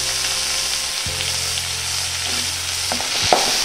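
Tomato sautéing in oil in a pan for mutton curry gives a steady, close sizzling hiss throughout, with a low background hum and a brief stirring clatter near the end.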